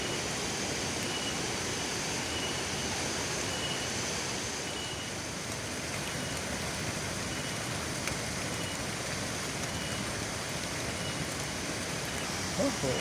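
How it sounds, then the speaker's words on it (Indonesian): Heavy rain pours down in a village setting, a dense, unbroken hiss at steady loudness with no pauses, close and enveloping for the whole stretch. "aya hujan gede kieu"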